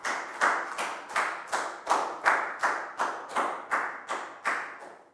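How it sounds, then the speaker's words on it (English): A school class claps in steady unison, about a dozen evenly spaced group claps in a brisk rhythm, close and clear with no talking. "Big round of applause for Park Bung,"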